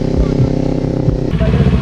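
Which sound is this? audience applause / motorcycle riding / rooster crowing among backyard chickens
motorcycle riding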